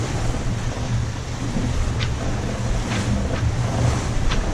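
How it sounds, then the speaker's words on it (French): Sea swell and waves wash around a sailing boat on the Mediterranean, a continuous rushing surf mixed with wind buffeting the microphone, loud and steady with no talk. "Il y a une petite houle, de temps en temps ça freine un peu le bateau"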